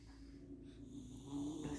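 A young child snores softly while asleep, a faint, steady breathing rasp repeating close by in a quiet room.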